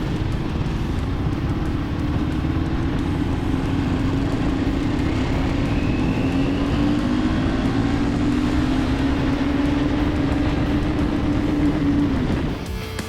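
A motorcycle engine pulls in third gear from 30 to 70 km/h, a steady droning note that rises gradually in pitch over about twelve seconds before cutting off, with road and wind noise underneath.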